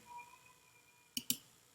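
Two quick, sharp mouse clicks on a software icon in a photo-editing program's layers palette, close and crisp over a faint background hum, with no talking.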